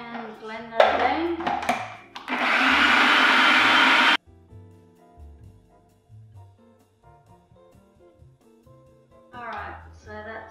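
A blender whirs loudly for about two seconds while blending melon smoothie with a quarter cup of water and a teaspoon of chia seeds, then stops abruptly. A person talks before and after.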